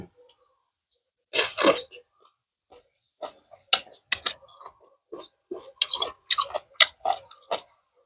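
Wet, crunchy chewing of a spicy Thai salad eaten with sticky rice, heard up close in a string of irregular bites and squishes with brief pauses between them.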